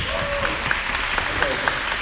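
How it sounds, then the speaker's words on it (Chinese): Audience applause fills a concert hall after a big band performance, a dense, steady clapping from a crowd that stays at an even level throughout. "就可以再给自己掌声一下"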